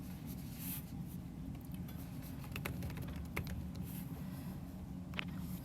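Fingers tap on a computer keyboard in a quiet room, faint irregular clicks scattered over a low background hum.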